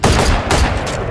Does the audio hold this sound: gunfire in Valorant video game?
yes